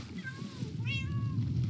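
A cat meowing in the video game Minecraft, in a creeper farm build: two clear meows, close by and moderately loud, over steady background noise with faint talk.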